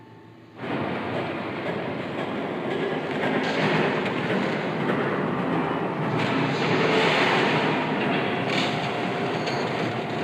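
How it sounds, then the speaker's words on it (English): A train rumbles past in the Batman: The Telltale Series video game, starting abruptly and building into a loud, steady clatter of wheels and rails that swells in the middle and late part. "There's a train coming. Take cover."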